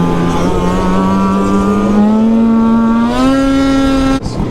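A snowmobile engine revving loud and close on a frozen lake, a sustained buzzing drone that climbs in pitch in steps before cutting off abruptly near the end.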